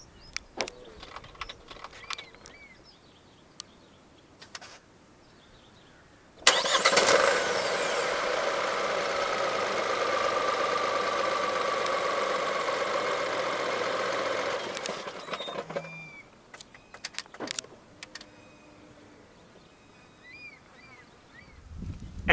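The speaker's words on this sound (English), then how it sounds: "The X50 in Malaysia does come standard with a remote engine start system." A 2021 Proton X50 1.5T Executive starts by remote, its turbocharged engine catching abruptly with a loud burst and then settling into a steady idle for about eight seconds before shutting off, with faint clicks and mechanical noises before and after.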